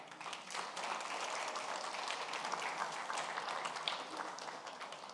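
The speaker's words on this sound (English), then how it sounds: "Please give yourself a round of applause, too." A crowd applauds continuously, a dense, even wash of many hands clapping at moderate distance, with no voices.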